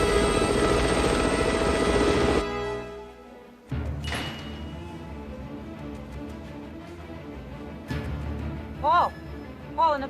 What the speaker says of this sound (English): Release the choppers.